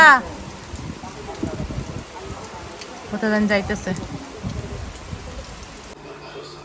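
Rain falls steadily outdoors during a Bengali market trip, a broad continuous hiss under people talking close by and a brief voice near the middle.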